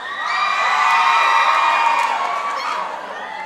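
A school audience at a faculty talent show cheers loudly, with whoops and shouts rising together in a sustained, close roar of crowd noise.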